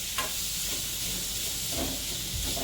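Ginger garlic paste and garam masala sautéing in a hot pan with oil for a veg puff filling, a steady close sizzle with faint stirring scrapes.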